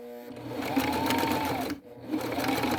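A sewing machine runs steadily, stitching along the other side of the fold of a flat felled seam, its motor hum loud and close, with a brief pause before it starts up again.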